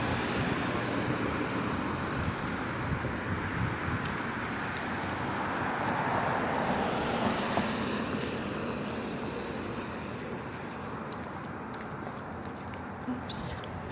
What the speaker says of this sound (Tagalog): Hindi naman malakas ang ulan.